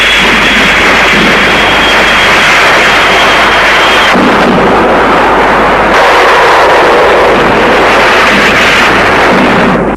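Ferocious artillery bombardment in the Nigerian civil war, a loud, continuous rumbling barrage of booms and crackling blasts that shifts in tone but never lets up.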